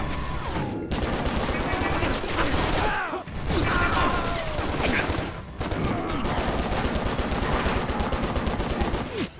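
Dense gunfire in the action game John Woo Stranglehold, with sustained loud bursts and rapid shots over about nine seconds and short dips between volleys, mixed with game sound effects and voices.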